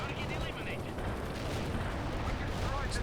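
Precision artillery strikes in the real-time strategy game World in Conflict pound a battlefield: a dense, continuous rumbling din of explosions and gunfire, moderately loud, with no clear gaps.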